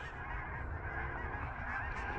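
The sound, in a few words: Canada geese honking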